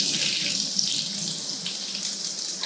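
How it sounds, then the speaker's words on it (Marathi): Flattened rice (poha) fries in hot oil for a namkeen snack, making a steady, dense hiss and crackle that stays loud and even throughout. "आता याच पद्धतीने सगळे पोहे मी छान असे तेलात फुलवून घेते"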